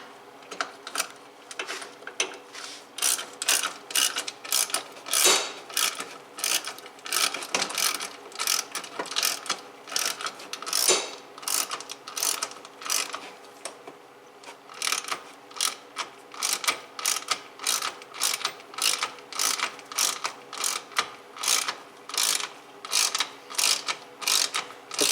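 A ratchet wrench clicks steadily while turning long bolts on a Polaris XP1000 side-by-side during roost flap installation, producing rapid bursts of close, crisp ratcheting in repeated strokes with short pauses throughout.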